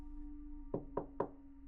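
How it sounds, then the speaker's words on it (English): Three slow, deliberate knocks on a door, evenly spaced and fairly loud, sound over a faint steady hum in a horror story sound effect. "A knock at the door. It was slow, deliberate."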